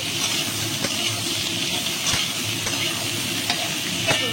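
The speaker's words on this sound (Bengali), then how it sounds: "ভালো করে আমি ঝিঙেগুলো ভেজে নেবো" Ridge gourd pieces fry in a pan with a steady sizzle, with scraping stirs and a few sharp knocks of the spoon against the pan throughout.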